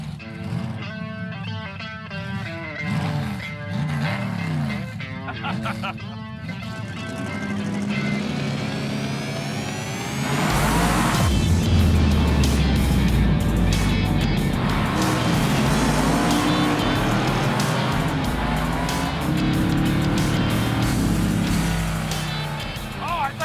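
Vintage Chevy gasser cars race side by side, engines droning and rising through gears, then a loud roaring surge that holds steady with wind and tire noise, while people talk over it early on.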